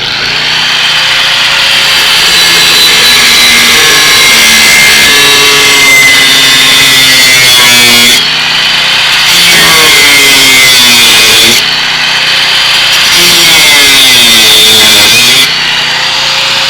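Loud, continuous power-tool cutting while building a metal driveway gate on an off-grid property, a steady whining grind with pitch sweeps as the blade bites, sustained close up for the whole stretch with brief dips.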